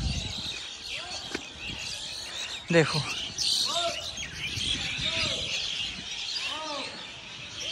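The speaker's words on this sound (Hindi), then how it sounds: "क्या शोर चिड़ियाओं का।" Many birds chirping around a village, heard from the roof of a tall house: a busy chorus of tweets and short whistled calls in the background, with someone talking over it.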